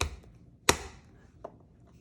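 Kitchen knife chopping garlic cloves on a cutting board, a few sharp isolated chops with one loud close strike and a fainter one after it, over quiet room tone.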